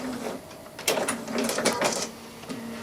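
A sewing machine top stitching fabric around tight curves on a quilted wall hanging, with short bursts of rapid mechanical stitching separated by brief pauses and small clicks, close and fairly quiet.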